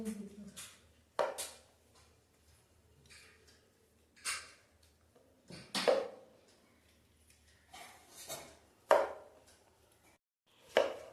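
A knife chops through a watermelon in a village kitchen, with separate loud thuds against the board spaced one to three seconds apart and quiet gaps in between.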